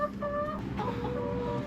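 Chickens cluck and murmur around a 200-pound bulk chicken feeder, a steady close chorus of short calls over continuous coop noise with no talking.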